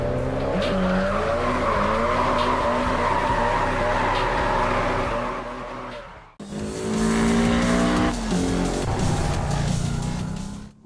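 Race cars slide sideways through a drifting race in a video game, tires squealing and engines roaring continuously, with a brief cut before another loud stretch of skidding and revving.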